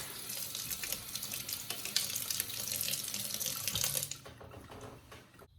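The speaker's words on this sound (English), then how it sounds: "Turn your water on and rinse out that gunk." Kitchen tap water running strongly to rinse tomato seeds in netting, a loud continuous gush for about four seconds before it cuts off and leaves quiet drips and handling noise.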